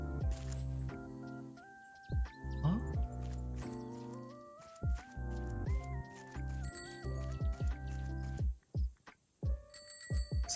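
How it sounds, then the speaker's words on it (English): A bicycle bell chiming in the Raft video game, several short bright rings amid sustained musical tones and soft thumps, moderately quiet with no talk. "Sounds like a bicycle bell."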